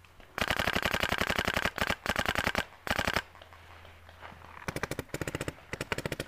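Rapid automatic gunfire from a video game battle, several long sustained bursts separated by brief pauses, then shorter choppy volleys near the end, loud and close with no talk over it.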